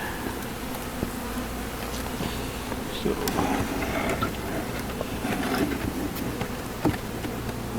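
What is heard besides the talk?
honeybees buzzing as a package is dumped into hive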